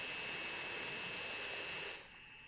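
A plane in the video game Transport Fever gives a steady broadband jet-engine roar, loud and constant, that drops off to a quieter hiss near the end.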